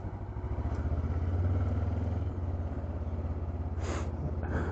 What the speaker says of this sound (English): See if I can avoid dumping my bike out from under me on this icy patch here.